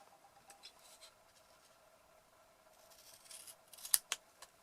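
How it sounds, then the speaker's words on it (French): Scissors snip off a small piece of paper, a few faint clicks at first, then a quick cluster of crisp, close cuts near the end in an otherwise quiet room. "On va ensuite couper le petit morceau qui dépasse."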